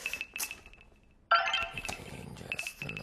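A mobile phone ringtone chimes in short repeated tones, pauses, then rings again at the same pitch over clattering room noise.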